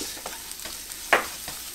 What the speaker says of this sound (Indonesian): Jadi kita tumis